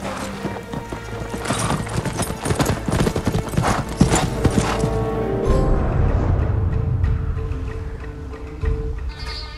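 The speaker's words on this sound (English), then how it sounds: "My ride or die horse." Fast, heavy hoofbeats of a galloping horse in the video game Ghost of Tsushima pound close and loud, then fade into a softer rumble of movement.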